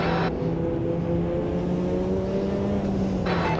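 A race car engine in Automobilista 2 with the JGTC mod, a steady loud droning note held at nearly constant revs throughout, with a faint tonal shift near the end and no voices.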